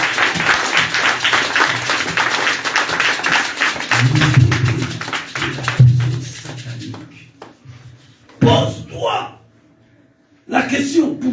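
A church congregation at a worship service applauds and cheers loudly and densely for several seconds, the clapping thinning out as a voice begins speaking in short bursts separated by pauses.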